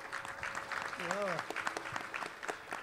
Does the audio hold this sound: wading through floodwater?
no